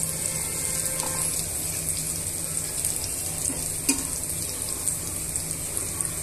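Onions and spices sizzle in a pan as the base for tomato rice, a steady close frying hiss with occasional stirring clinks and no voice.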